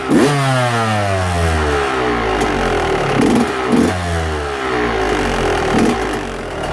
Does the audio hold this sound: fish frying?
no